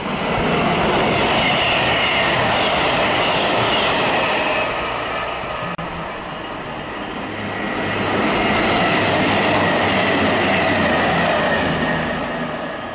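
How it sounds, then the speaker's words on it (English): Two CrossCountry passenger trains rumble past close by one after the other at Poynton, with rolling wheel noise, rail clatter and squealing wheels, loud throughout with a brief dip between them. "Two cross-country trains are about to pass"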